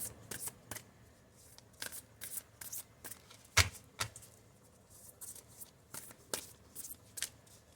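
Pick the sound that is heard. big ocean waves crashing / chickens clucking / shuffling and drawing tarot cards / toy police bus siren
shuffling and drawing tarot cards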